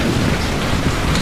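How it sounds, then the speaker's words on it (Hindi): A heavy downpour roars with a low thunder rumble, a steady dense storm wash with no voices, set in a haunted-forest story where lightning strikes near a car. "थोड़ी सी आगे बढ़ने पर फिर से कड़कती हुई बिजली उनकी गाड़ी के बिल्कुल नजदीक गिरती है"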